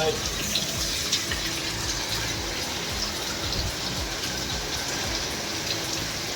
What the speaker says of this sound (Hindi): वाह यार, बारिश और मौसम.